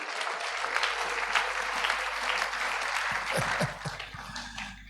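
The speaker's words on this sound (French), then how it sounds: "Est-ce qu'on peut acclamer la parole?" A church congregation applauds during a sermon, a steady, dense wash of clapping that holds for several seconds and eases slightly at the end.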